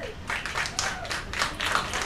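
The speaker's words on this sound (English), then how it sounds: "Just by a round of applause, where is team number one?" A game-show audience gives a short burst of clapping for team one, with dense handclaps that stay steady for about two seconds.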